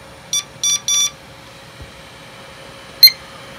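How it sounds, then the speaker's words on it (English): Computer BIOS startup beeps from a PC booting to the VMware ESXi 6.5U1 hypervisor: three short tonal beeps in quick succession, then a single louder beep a few seconds later, over a faint steady hum. "you just heard the BIOS boot sequence finish with the beep code of everything's happy"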